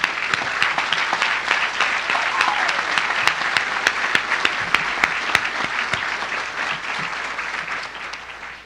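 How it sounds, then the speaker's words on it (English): Audience applause at a groundbreaking ceremony for a new airport terminal in Kansas City, a dense, loud, sustained burst of clapping with crisp individual claps, fading slightly toward the end. "if everyone would join me in a round of applause for all the local firms"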